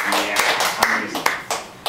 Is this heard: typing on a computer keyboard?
no